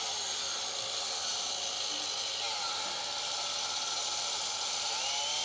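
A chainsaw trims a mortise for a wooden bench leg, its engine whining continuously and loud as the chain cuts through the wood without a break.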